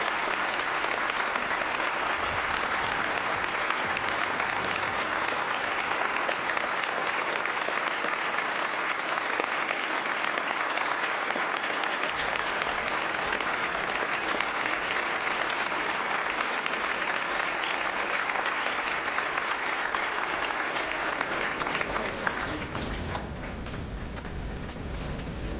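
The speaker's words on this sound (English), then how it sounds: "There's like at least a dozen people clapping in this room." Sustained applause from an audience, a dense steady wash of clapping that continues throughout and eases slightly near the end.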